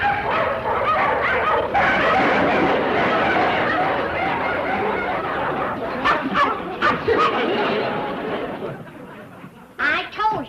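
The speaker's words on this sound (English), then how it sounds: "Them dogs look hungry enough to run him to the state line." A pack of dogs barks and yips excitedly in a dense, overlapping chorus from an old western TV comedy, with voices talking over the noise before it thins to a few scattered barks.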